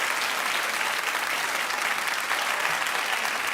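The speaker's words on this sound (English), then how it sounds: "Clap if you think that they need to say something." A studio audience on a talk show claps loudly and continuously, a thick, even burst of applause with no voices breaking through.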